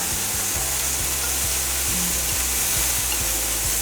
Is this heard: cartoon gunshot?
no